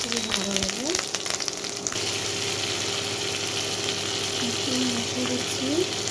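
Garlic frying in a pan gives a steady, close sizzle that holds for the whole stretch, with a faint engine-like hum and a few tonal squeaks underneath.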